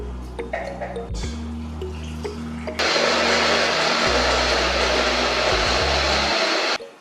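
Kitchen blender whirring through cooled cooked onions and pepper for groundnut soup, a steady loud motor drone that pulses and stutters early on, then surges to a harsher full-speed roar before cutting off.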